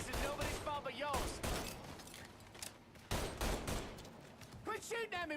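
Video game gunfire from Mafia III: Definitive Edition cracks out in repeated sharp bursts and volleys, interleaved with in-game voices and shouting.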